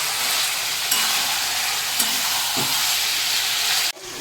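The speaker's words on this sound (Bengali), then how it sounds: "তো এখন মাংসটা কড়াই দেওয়া হলো" Marinated meat fries loudly in a wok with potatoes, a steady close sizzle and hiss, with a few scraping stirs before a brief break near the end.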